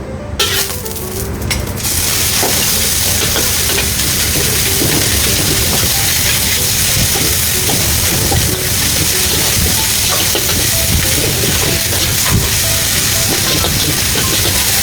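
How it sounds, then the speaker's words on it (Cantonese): Cornstarch-coated meat pan-frying in peanut oil in a wok, giving a loud, steady hiss and sizzle throughout, close and without talk. "首先先煎咗個肉先"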